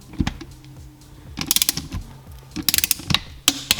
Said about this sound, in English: So now you're going to take your torque wrench, you're going to set it to 17 foot-pounds